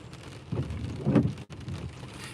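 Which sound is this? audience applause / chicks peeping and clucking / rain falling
rain falling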